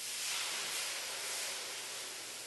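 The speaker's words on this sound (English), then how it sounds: "the pan I'm going to deglaze. In other words, take those nice brown bits off the bottom of the pan with some beef stock" A hot pan is deglazed with homemade unsalted beef stock, giving a steady, soft hiss of steam and sizzle that holds evenly throughout with no talking.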